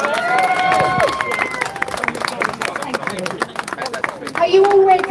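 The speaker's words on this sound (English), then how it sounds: "can you give her a round of applause?" A crowd at an outdoor protest in Braintree claps and cheers in scattered bursts, with people talking over and between the applause.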